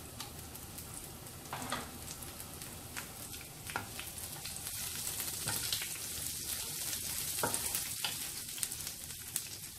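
Chopped onions frying in a pan on top of wilted ginger for tomato rice: a steady, close sizzle with occasional soft stirring clicks and scrapes, no voices.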